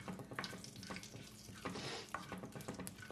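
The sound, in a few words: sautéing black cardamom and cinnamon pieces in oil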